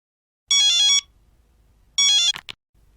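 A telephone rings with a bright electronic warbling tone, two separate bursts of ringing, loud and close, the second cut short by a clack as the phone is picked up.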